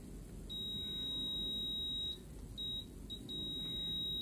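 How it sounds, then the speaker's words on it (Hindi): A multimeter's continuity beeper sounds on a motherboard capacitor during PS2-section circuit tracing: a steady high electronic tone runs for about a second and a half, breaks off, then returns in shorter beeps and a final sustained tone, with no voices. "ये जो कैपेसिटर यहाँ पे रखा हुआ है उसमें बीप आ रही है"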